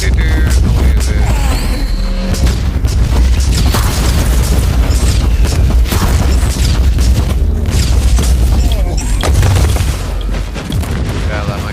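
Gunfire in the Warhammer 40K Inquisitor video game: rapid booming bursts and heavy shots fire repeatedly and loudly throughout, with brief lulls and a voice speaking over parts of it.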